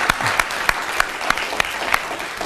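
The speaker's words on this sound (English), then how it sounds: "So let's give them another round of applause." Steady audience applause fills a law school symposium hall, dense and fairly loud, with sharper individual claps standing out throughout.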